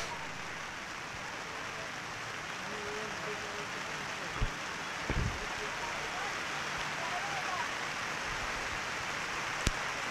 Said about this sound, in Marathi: पावसाचं आगमन आपण पाहतोय.